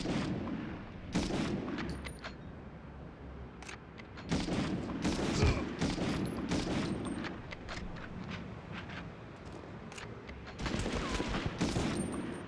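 Medal of Honor gunfire crackles throughout, with dense bursts of rapid shots and distant booms layered into continuous battle noise at moderate loudness.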